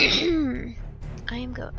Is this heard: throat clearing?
yes